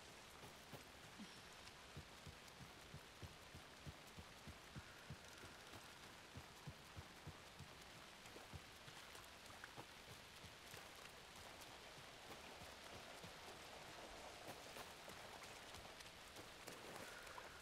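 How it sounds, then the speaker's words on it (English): Steady rain drums on a roof in the horror video game Alan Wake II, a dense, continuous patter with scattered louder drops, and no voices over it. "I heard the rain on the roof"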